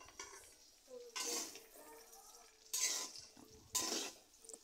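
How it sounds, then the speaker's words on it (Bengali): Pasta tossed with vegetables and chopped coriander leaves in a pan, with a few distinct bursts of stirring and scraping against the cookware over a low sizzle. "আবার ধনিয়া পাতা কুচির সাথে পাস্তা সবজিগুলো ভালো করে মিশিয়ে নেব।"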